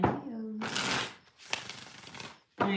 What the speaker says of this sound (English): I feel like I gotta do one more shuffle